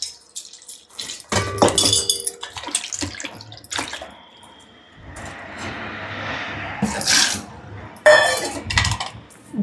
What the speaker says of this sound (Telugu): ఇప్పుడు నీళ్ళు పోసుకొని నానబెట్టుకున్నాము